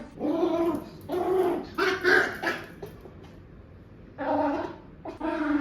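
A pet dog barks and whines in several bursts of hoarse, gargly vocalizing at close range indoors, with a short pause before the last few bursts.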